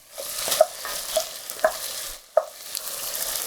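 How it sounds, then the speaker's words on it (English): Onions and celery frying in a pot are stirred, giving a steady close sizzle broken by a few distinct scraping knocks of the spoon against the pot. "And we're going to give this a little stir to get them going."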